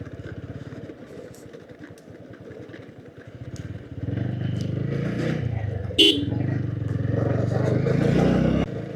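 A motorcycle rides along a muddy village road, its engine droning steadily and growing louder and rougher midway, with a brief sharp clatter near the middle and voices mixing in.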